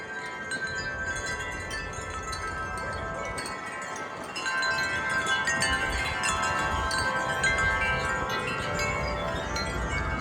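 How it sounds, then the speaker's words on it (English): Strong wind blows outdoors, a loud continuous roar that buffets the microphone throughout and grows heavier partway through, with no voices. "And the wind's coming from that way too, so we can like feel."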